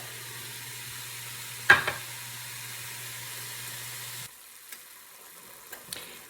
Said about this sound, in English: While the ground beef and Italian sausage are both cooking, I'm going to add this is a small onion chopped.